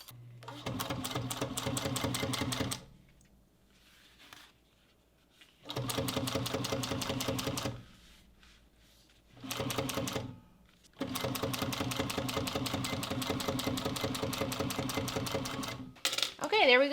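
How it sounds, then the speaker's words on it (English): A sewing machine topstitches along both edges of a bag strap seam at an eighth-inch allowance in four rapid, buzzing bursts, the last one longest, with quiet pauses in between. "I'm going to just top stitch along both edges of this seam at about an 1/8 inch seam allowance"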